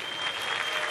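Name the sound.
applause for Nubbel Mike Hehn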